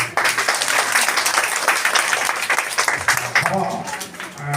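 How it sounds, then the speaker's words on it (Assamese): Applause for teachers at a Teachers' Day school gathering, a dense and loud burst of many hands clapping together that fades toward the end, with a voice faintly under it. "তোমালোকে সকলো এটা হাত চাপৰি মাৰা"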